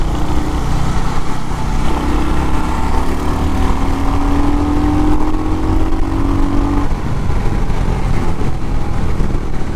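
A Royal Enfield Hunter 350 motorcycle rides through traffic on a wet road, its engine a loud, steady drone with a rising whine for several seconds over continuous road and traffic noise.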